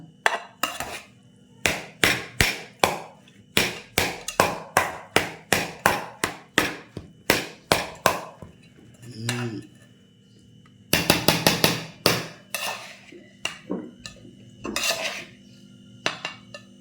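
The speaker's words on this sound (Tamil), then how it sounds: "சின்ன கரண்டி விழுந்து போல பெரிய கரண்டி எப்படி கிண்டுறது சொல்லுங்கள்" A large ladle stirs and scrapes food in a metal pot with rapid, rhythmic clanks and taps, loud and close, pausing briefly before another burst of clatter.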